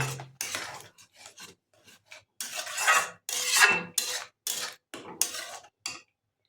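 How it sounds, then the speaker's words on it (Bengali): Paneer curry with added yogurt stirred in a pan, a spoon scraping and rasping in short, irregular strokes with brief quiet gaps, close and fairly clear with no talk. "এবার আমরা মিনিট তিনেক ধরে নাড়াতে থাকবো"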